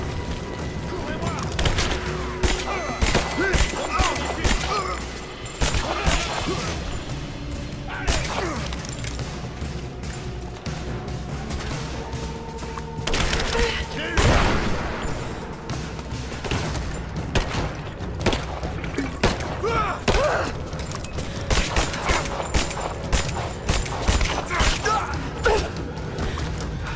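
Dense, continuous gunfire and impacts from combat in the video game Rise of the Tomb Raider, with bursts, booms and clattering mechanisms layered throughout under occasional game voices.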